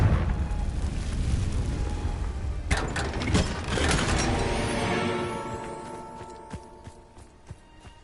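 A Confringo fire spell is cast in Hogwarts Legacy, giving a loud booming blast with crackling bursts that fade into a rumbling decay, followed by scattered sharp clicks and pops.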